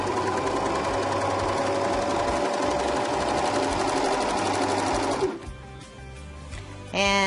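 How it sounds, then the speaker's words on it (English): A serger sewing machine stitches fabric with decorative thread in a loud, steady, rapid whir for about five seconds, then stops, with a short burst of motor as it restarts near the end. "you're going to have to put wrong sides together on your fabric and stitch this so that you get your decorative thread on top"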